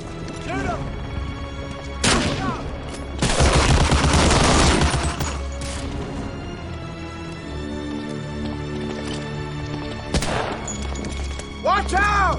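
Bursts of gunfire and heavy explosions on Omaha Beach in Medal of Honor Allied Assault, with loud rattling volleys and booming blasts between quieter stretches, and soldiers shouting over the battle.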